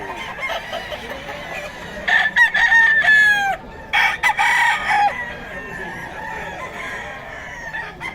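A Boston White gamefowl rooster crows loudly and close by, two or three drawn-out crows in a row over steady outdoor background noise.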